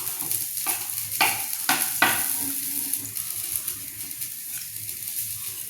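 Coconut, onion and fennel seeds frying in a pan, a soft sizzle under a few sharp scraping strokes of a spoon early on, then quieter steady crackling, close and fairly faint with no voices.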